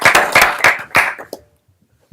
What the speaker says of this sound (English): how about a round of applause from the board?